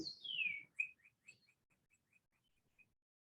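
Bright bird chirps ring out outdoors: a long descending whistle, then a series of short, evenly spaced tweets that fade gradually.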